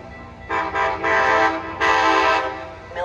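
A Metra commuter train on the Milwaukee West line pulls into Franklin Park station, its horn sounding in loud, sustained tooting blasts, two long bursts separated by a short gap, over a steady rumble of rails.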